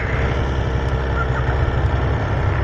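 A Yamaha Tracer 900 GT motorcycle engine idles steadily and smoothly up close, a loud, continuous low rumble with no speech over it.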